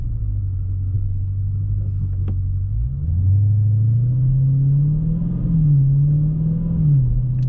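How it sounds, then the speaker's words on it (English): A 2020 Dodge Challenger Scat Pack Widebody gives off a deep, loud exhaust rumble from inside the car, idling steadily, then rising in pitch as the engine revs and accelerates in smooth swells. "So you guys can hear the exhaust, I'm sure."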